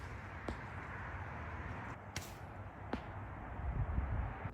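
Arrows from a Mathews Lift RS compound bow are shot at a target, with a few sharp snaps and thwacks rising above steady wind noise at a moderate distance.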